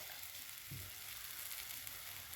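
Grated coconut sautés in a pan for guava chutney, a faint continuous sizzle with a brief stir near the start, heard close and alone.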